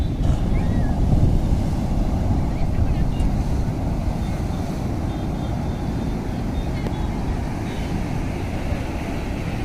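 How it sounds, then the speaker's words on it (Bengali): Big sea waves at Puri beach rumble and wash continuously at a moderate level, with wind buffeting the microphone and faint voices in the background. "ঢেউ খুবই বড় বড়।"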